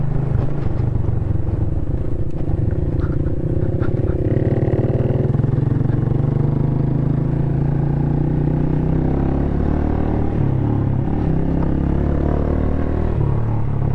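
A vehicle engine runs loud and steady in fourth gear on a road toward Murree, a constant low drone with a slight shift in pitch partway through.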